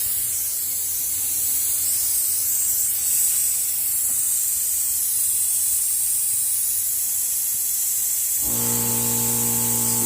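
A Harbor Freight pneumatic brake bleeder hisses loudly on an air line at about 100 psi, a constant rushing jet of air close by, joined near the end by a droning compressor hum.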